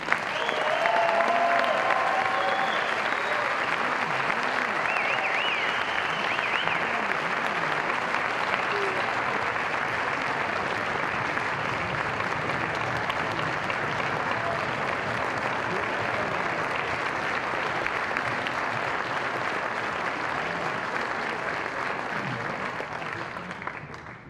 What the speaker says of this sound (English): please, one more round of applause for our outstanding students